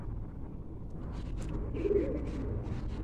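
A female pigeon coos softly nearby, a low murmuring call that swells slightly midway over a steady hum of background noise, with no talking.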